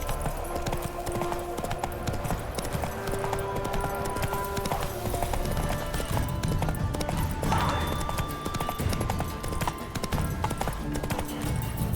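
Game horse in The Witcher 3: Wild Hunt galloping: continuous rapid clip-clop of hooves at close range, steady throughout with a faint snort or whinny mixed in.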